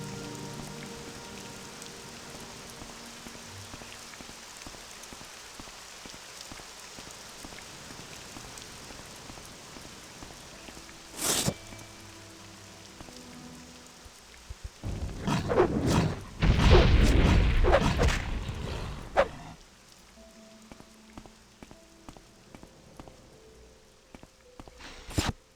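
Steady rain falls in the game Morrowind, a soft continuous patter throughout, with a brief sharp crash midway and a louder rumbling burst of heavier sound later before settling back to the quiet downpour.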